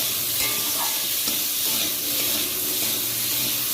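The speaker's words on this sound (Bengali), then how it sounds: "লবণ দেব আলুগুলো ভেজে নেব ভালো করে" Potatoes fry in oil with salt, giving a dense, loud, continuous sizzle with faint scraping of stirring underneath, close by and with no talking.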